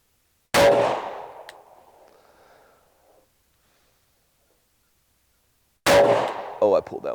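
A Sig Sauer P365 pistol fired with Winchester white box ammunition at a range: two sharp, loud single shots several seconds apart, each with a short echoing tail. A voice starts speaking right after the second shot.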